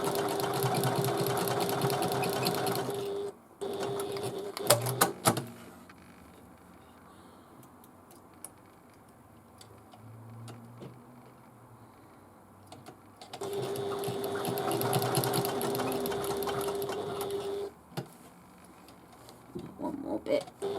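A sewing machine stitching a backpack, a fast rhythmic mechanical chatter in two long runs of several seconds separated by a quieter stretch, close and clear with a voice speaking softly in between.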